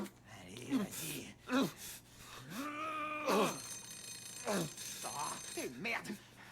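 A telephone rings in Resident Evil 7, a horror video game, with a tonal ring in the middle of the clip. Gasping, groaning vocal sounds from the game come before and after it.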